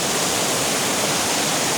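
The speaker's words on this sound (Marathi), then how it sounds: "माझ्या पाठीमागे हे पाणी किती जोरदार वाहत आहे" Fast-flowing stream in Konkan, a steady dense roar of rushing water that stays close and loud without a break from start to finish.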